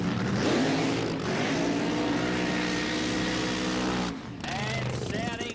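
Funny car drag racing engine at Calder Park Raceway in 1988, a loud, rich, harmonic roar held steady for several seconds before cutting off abruptly, then a second engine revving up, with an announcer talking over it.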